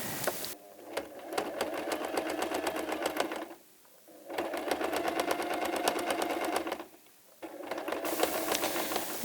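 A sewing machine runs in three steady bursts of rapid, even stitching through fabric lining, each pause a brief near-silence before the motor starts again; loud and close, with no voices over it.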